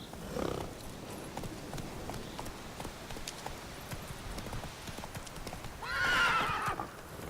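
A horse in The Witcher 3 video game clip-clops along in a steady rapid hoofbeat rhythm, with a short whinny near the start and a louder neigh near the end, with no talking.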